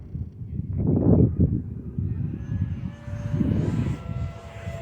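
An FMS Futura 64mm electric ducted fan RC jet fitted with an afterburner kit flies past, its rushing ducted-fan roar swelling, dipping and swelling again, with a rising whine as it passes, fairly loud and near.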